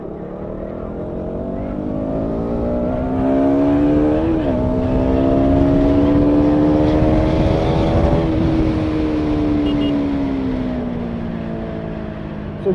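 A 2019 KTM Duke 200 ABS motorcycle accelerates on an open road, its engine note climbing steadily through the gears with a brief shift dip, loud and close with wind rush, then easing off near the end.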